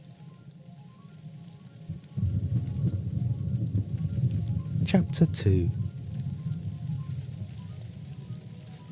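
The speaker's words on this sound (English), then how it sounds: "The rain hadn't stopped." Rain as an audiobook sound effect, a steady low patter and hiss of falling rain that swells after a couple of seconds and continues under a narrator's brief speech.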